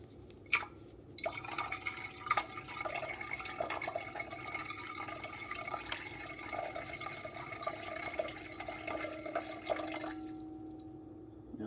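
Crystal Geyser spring water pours into a bowl for sourdough dough, a steady trickling stream with light splashing that runs for several seconds, quiet and close, then stops.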